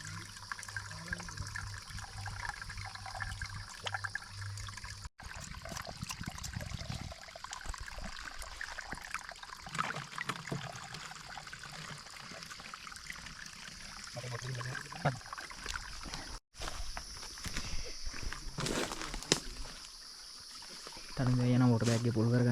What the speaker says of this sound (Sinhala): භාගේ පුරවල බෝතල් වල පුරමු.